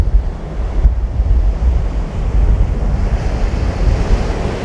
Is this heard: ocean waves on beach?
yes